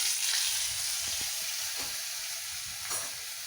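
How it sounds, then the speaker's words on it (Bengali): Paneer fries in hot butter and a little white oil in a wok, giving a steady, bright sizzle with a few soft stirring knocks and no talking. "বাটারটা গরম হয়ে গেল, এর মধ্যে আমি পনিরগুলো দিয়ে হালকা ফ্রাই করে ভেজে নেব"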